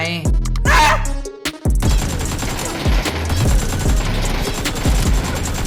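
Rapid bursts of video game gunfire, loud and close, repeating in a dense rattling stream with a brief pause near the start, while a voice talks over the shooting.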